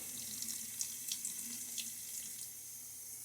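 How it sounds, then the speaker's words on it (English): Water runs steadily from a tap, a soft continuous hiss with faint splashing into a basin, fairly quiet and close. "we just have to add some more water"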